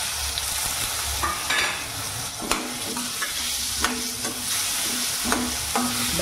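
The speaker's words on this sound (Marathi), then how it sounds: "चला आता आपल्याला बटाटा टाकायचा आहे" Potatoes tossed into a pan of frying turmeric and stirred, with repeated scraping and clattering strokes over a steady oil sizzle, close and fairly loud, no talking.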